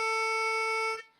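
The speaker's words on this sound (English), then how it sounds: "So a pucker on the 4 blow might sound like this" Single puckered blow note on the 4 hole of a harmonica, a steady bright reedy tone held about a second before cutting off, played alone with no talk.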